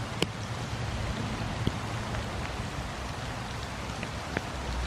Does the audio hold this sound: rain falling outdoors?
yes